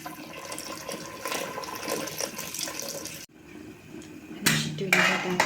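Hot water poured over food in a home kitchen, with a steady rushing, splashing pour under a low voice, a brief break, then a louder gush of running water.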